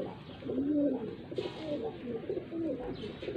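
Rampuri pigeons coo in soft, rolling phrases close by, several low burbling calls repeating over faint background noise.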